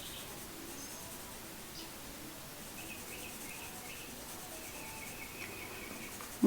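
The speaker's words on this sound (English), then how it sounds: "And hear the birds in the background." Birds chirp faintly outdoors on a fine day, thin scattered calls and short trills sitting low in the background beneath a steady hiss of ambient noise, with no talking.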